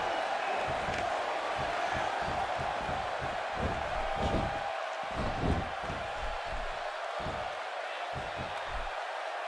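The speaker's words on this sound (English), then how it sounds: "Hot crowd here tonight in Minneapolis." Arena crowd in the WWE 2K16 wrestling game, a match in Minneapolis: a steady roar of cheering fans fills the clip, with sharp thuds and slams from the ring breaking through and commentary over the top.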